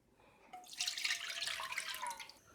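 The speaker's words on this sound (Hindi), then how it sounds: "तो देगची में 2 कप दूध डालती हूँ।" Milk pours into a cooking pot for about two seconds, a soft, close splashing and gurgling stream that starts abruptly and trails off, faint and alone.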